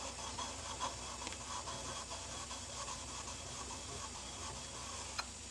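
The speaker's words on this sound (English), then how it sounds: "we'll start chasing this burr by holding the chisel perfectly flat on the stone" A chisel is held flat and rubbed back and forth on a sharpening stone, making a quiet, continuous gritty scraping with one faint tick near the end.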